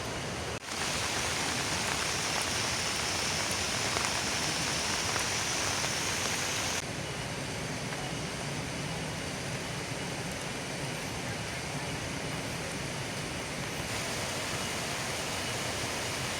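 Rain falls in a remote village, a dense, steady hiss of drops that continues unbroken and fairly loud across the whole stretch, with a slight shift in texture partway through.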